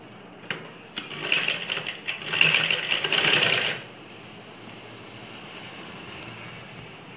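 A sewing machine runs a side seam on a ladies' blouse, a dense rattling burst of stitching lasting a few seconds, then stopping and leaving quiet room hiss.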